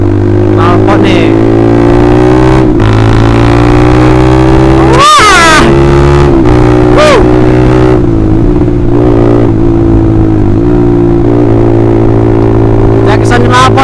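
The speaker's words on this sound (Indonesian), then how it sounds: "Kali ini gua mau cek sound atau tes knalpot nih." A Honda CBR150R sport motorcycle with a replica Austin Racing aftermarket exhaust idles with a loud, steady burble, broken by several sharp throttle blips, the strongest around the middle, rising and falling close by.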